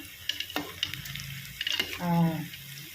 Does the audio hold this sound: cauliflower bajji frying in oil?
yes